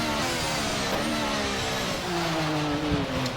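A 2014 Formula 1 car with a semi-automatic gearbox in the rFactor racing game revs hard, its engine pitch climbing and shifting in sustained whining harmonics, loud and continuous with no talk.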